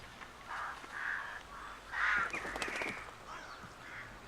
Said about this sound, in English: it's just the crows, isn't it?